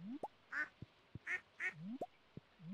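Ducks in the farming game Stardew Valley quack repeatedly in a quick, uneven series of short calls, soft and close, with no talking over them.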